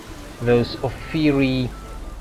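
Steady rain falls in the video game Witcher 3: Hearts of Stone, a soft, continuous hiss beneath a voice that speaks in two short bursts.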